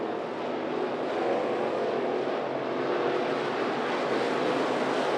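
IMCA Modified race cars roaring around Grays Harbor Raceway, a continuous loud blended engine drone from the pack on track, steady and unbroken with no voices.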